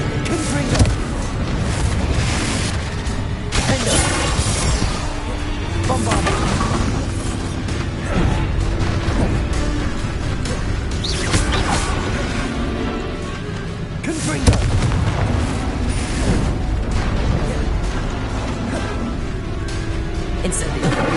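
Bombarda blasting-spell explosions go off in the video game Hogwarts Legacy: repeated booming blasts and bursts across dense, continuous combat noise, with a voice heard at times.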